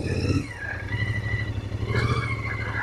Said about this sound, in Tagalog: Ay, may motor.